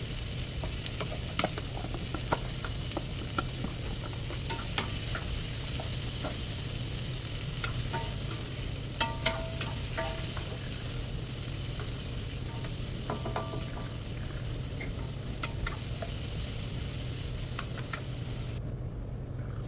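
Onions frying and caramelizing in a pan, a steady sizzle with occasional scraping stirs, heard up close and alone without voices for most of the time.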